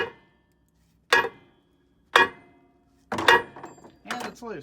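A sledgehammer strikes a stuck front brake drum on a 2007 Freightliner Columbia truck with four sharp, ringing metallic blows about a second apart, the last two coming closer together, followed by someone speaking briefly.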